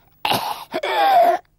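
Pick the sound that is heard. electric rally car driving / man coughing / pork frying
man coughing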